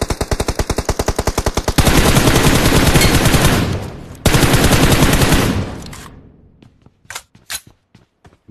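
Rapid automatic gunfire in the video game PUBG Mobile, a fast rattling burst followed by dense sustained fire, then a few scattered single shots as it trails off.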